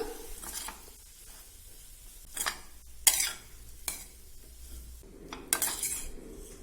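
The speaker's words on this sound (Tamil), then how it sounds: "இது எல்லாத்தையும் சேர்த்து நல்லா பரட்டி விட்டுடலாம்." A spatula scrapes and stirs garlic potato fry in a pan in several separate strokes, with a faint sizzle underneath; close and fairly quiet.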